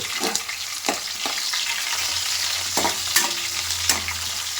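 Green chillies for lemon rice frying in a pan, a steady close sizzle broken by a few sharp scraping stirs, with no voices.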